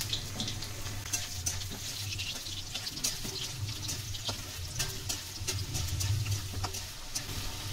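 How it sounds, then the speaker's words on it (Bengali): Potatoes being stirred and fried in a pan, a soft steady sizzle with light scraping and clicking of the spatula, fairly quiet. "এবার নাড়িয়ে চাড়িয়ে আলুগুলোকে আমি ফ্রাই করে নিচ্ছি।"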